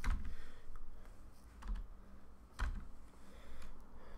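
Keys clatter on a computer keyboard while a command is entered in a Linux terminal, soft irregular clicks in quick bursts over a faint background hum.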